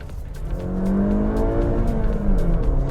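A 2020 Honda City with a VTEC petrol engine revs up and then eases off during heel-and-toe shifting, a rising and falling engine note heard from inside the car.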